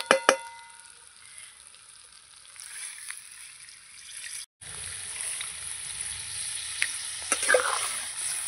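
Sizzling fish masala with capsicum crackles quietly in a pan, then water is poured in and the sound shifts to a louder, fuller hiss and bubbling that carries on to the end.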